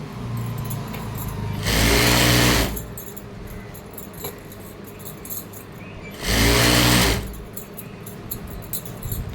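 A sewing machine stitching a fall onto a saree runs in two separate bursts of loud, steady whirring, each a little over a second long, with quieter background hum between them.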